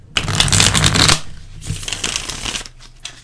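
Oracle cards being shuffled, a close, loud riffling burst of card flutter followed by a second softer shuffle and a brief final flick, with no talking.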